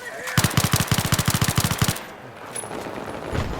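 Rapid machine gun fire in Battlefield 3, a tight burst of about twenty close, loud shots in steady rhythm, followed by a quieter stretch of faint ambient game noise.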